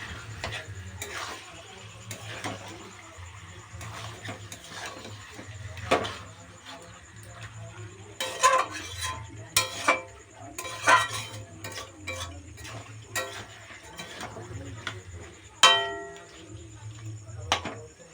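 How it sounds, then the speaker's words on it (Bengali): Chicken curry is stirred while frying in an uncovered pot, giving sparse, close metallic clinks and taps of a spoon against the pot at irregular intervals over a low background. "ঢাকা খুলে নাড়াচাড়া করে দশ মিনিট অন্তর অন্তর ভালোভাবে কষিয়ে নিচ্ছি"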